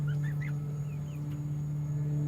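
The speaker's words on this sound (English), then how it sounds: "They're our older 2 hens" Two older backyard hens give a few soft, short clucks and chirps near the start, faint over a steady low mechanical hum, with no talking.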